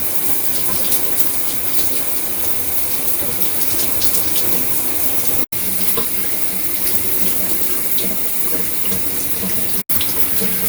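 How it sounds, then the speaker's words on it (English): Warm shower water pours in a steady, fairly loud rushing stream, cut by two very brief silences. "thank God for warm running water"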